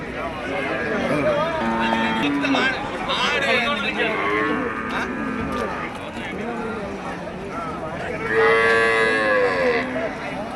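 Cattle moo several times over about ten seconds at a market in Melapalayam, the calls drawn out and fairly close, with people talking throughout.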